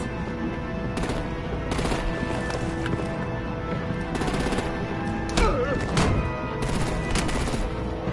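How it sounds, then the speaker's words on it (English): Artillery and gunfire in a Batman Telltale game scene, a steady roar of bursts and shots with several louder clusters, a busy battle din throughout without clear speech. "Break out the artillery and disable their vehicles!"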